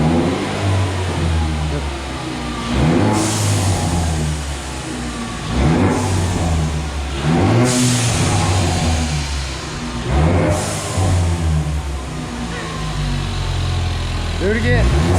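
An EcoBoost Mustang fitted with a Turbosmart blow-off valve, revved repeatedly up close: four or five sharp climbs in engine pitch, each ending in a bright hissing whoosh of vented air, with a steady idle between them.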